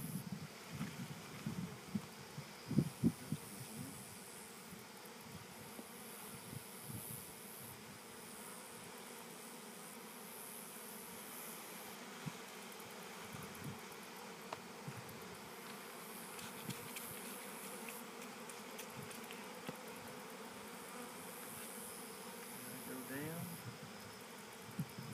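A honeybee swarm being caught in August: a faint, steady buzzing hum of many bees with scattered soft knocks and rustles, continuing without a break for the whole stretch.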